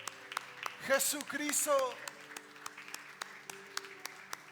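A church congregation applauds during a worship service, scattered claps running beneath a raised, sung or spoken voice that dominates the first half, then thinning to sporadic hand claps.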